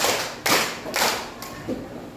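Children in a classroom lesson clap in unison, three separate sharp bursts spaced roughly half a second apart, fairly close and moderately loud, with no talking over them.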